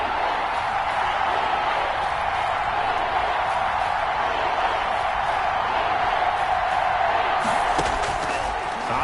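Football stadium crowd roaring steadily ahead of a big Vikings third down, a dense continuous wall of cheering with a brief sharper burst near the end.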